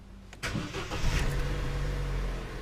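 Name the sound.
2013 Vauxhall Corsa D engine starting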